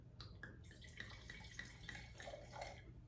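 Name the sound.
wine being poured into a glass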